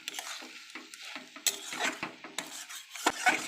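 Red amaranth stalk curry with mustard paste is stirred in a pot, giving soft close scrapes and clinks of a utensil against the metal over a faint sizzle, quiet and irregular.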